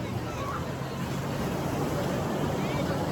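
Water sports ride boats run off Ladghar beach in Dapoli, heard as a steady broadband rush of surf, wind and distant motor over the whole stretch, with no clear separate engine note.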